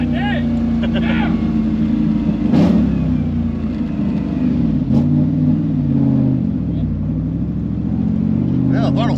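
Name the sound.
LT1 engine in a Third Gen Camaro revving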